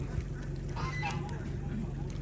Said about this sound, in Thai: เป็นเป็ดที่ค่อนข้างอ้วนใหญ่บึกบักดีนะครับ เป็นเป็ดที่เนื้อเยอะนะครับ